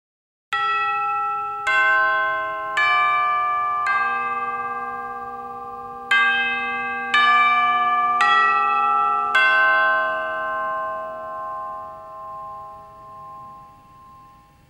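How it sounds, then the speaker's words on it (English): Orchestral chimes ring out alone in a series of bright metallic strikes, each tone hanging and overlapping with the next as the pitches step along, then a long decaying ring at the end. "Chimes."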